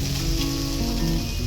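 Beans and potatoes frying in a pan give a steady, close sizzle that holds at an even level throughout, with a low hum underneath.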